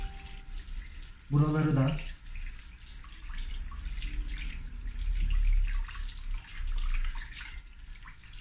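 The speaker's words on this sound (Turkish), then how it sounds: "Hiçbir yerde köpük kalmayana kadar güzelce suyla durulayın." Tap water runs continuously at a barber's sink as hair is rinsed, a steady close splashing wash, with a brief spoken remark and a short clatter early on.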